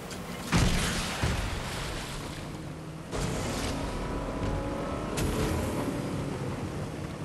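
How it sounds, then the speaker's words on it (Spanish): In Fortnite, motorboats roar across land instead of water, with sharp booming impacts and bursts of engine noise over a continuous rumbling drone. "estas lanchas que siempre van por la tierra en vez de por el agua"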